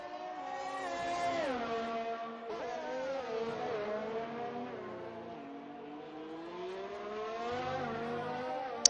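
A Racing Point Formula 1 car at Japan in a racing game screams through the gears with an onboard view, its high engine note rising and dropping through shifts and braking, loud and continuous with no talk.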